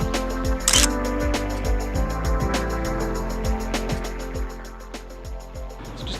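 A 35mm film camera shutter fires in a brisk series of close, sharp clicks, some paired with a brief winding or advance burst, repeating steadily throughout with no voices.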